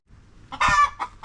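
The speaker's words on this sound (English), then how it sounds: "Sometimes the chickens disturb the peace on the island." A chicken on an island gives a loud cluck-like call near the mic, followed by two shorter clucks, with faint background sound in between.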